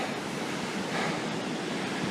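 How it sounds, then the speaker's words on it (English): Dangerous ocean surf breaking on the beach at Fort Ord State Park in California, between Seaside and Marina, as a steady broad roar of rushing waves, loud and continuous with no voices. "the waves are pretty dangerous around here"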